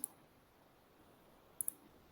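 A few faint, sharp computer mouse clicks: one at the start, then a quick pair a moment later, in a quiet room.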